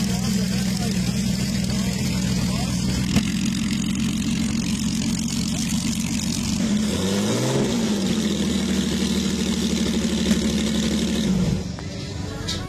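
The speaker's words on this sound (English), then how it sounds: "this motorcycle that has a V12 from the Lamborghini Espada" A motorcycle fitted with a Lamborghini Espada V12 engine idles with a deep, steady drone, swelling briefly in a rev before settling, then dropping off near the end; a voice talks over it.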